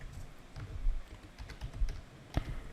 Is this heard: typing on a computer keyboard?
yes